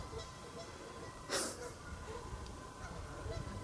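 Ducks or geese along a wooded hiking trail at Red Top Mountain give honking calls over a steady outdoor background, with one louder honk standing out.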